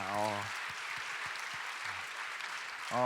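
Audience applause at a Korean church college-group talk show, a steady broadband clapping wash lasting a few seconds between stretches of speech at the start and end.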